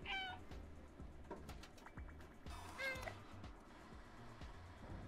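A cat in the game Stray meows twice in quick, high, close calls early and again midway, set against soft ambient hum and light scattered clicks.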